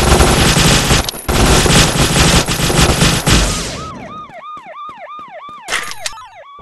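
Rapid, loud bursts of weapon fire from the Android game Vegas Crime Simulator shooting at robots, then a rising and falling siren wail takes over.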